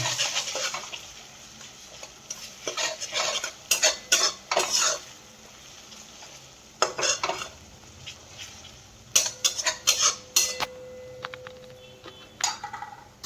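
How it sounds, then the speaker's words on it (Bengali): Spices and tomato for a curry being stirred and fried, with repeated sharp metal scraping and clanking of a utensil against the pot in bursts over a soft sizzle. "এখন মশলা কষাচ্ছি টমেটো দিয়ে দিয়েছি"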